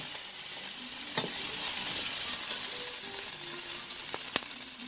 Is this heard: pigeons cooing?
no